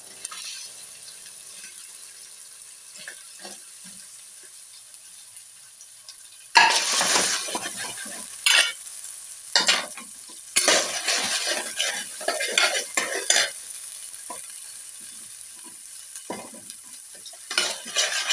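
Small shallots tossed into a hot pan and sautéed for a Kerala chicken curry, a loud sizzle bursting in about a third of the way through, with clinking stirs and scrapes over steady frying hiss.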